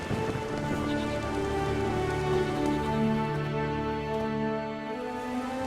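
Steady rain falls in The Witcher 3 video game, a dense, constant patter on surfaces that holds at an even loudness throughout with no other sounds.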